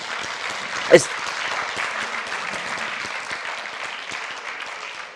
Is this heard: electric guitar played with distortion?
no